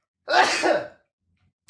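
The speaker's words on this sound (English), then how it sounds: "sorry, I want to sneeze." A single short, breathy sneeze bursts out close to a microphone, followed by silence.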